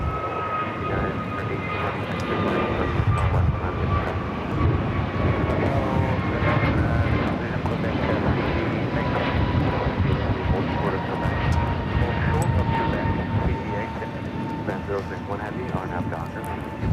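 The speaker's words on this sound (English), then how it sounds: "The flight taking off. American Airlines Flight 2018 heading to Philadelphia, an A321neo." An American Airlines A321neo jet roars down the runway on takeoff at LAX, a steady loud engine rumble with a rising whine held for the whole stretch while people talk over it.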